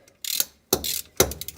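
A ratchet loosens 12 mm nuts with washers on the third member of an AE86 differential, giving three quick bursts of close, crisp clicking separated by short pauses.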